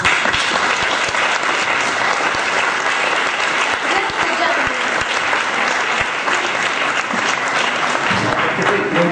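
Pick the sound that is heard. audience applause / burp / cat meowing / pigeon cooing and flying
audience applause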